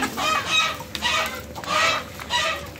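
Chickens cluck and squawk nearby in several loud bursts, with a rooster-like strained call among them, recorded at a home where the birds are kept; no talking is heard.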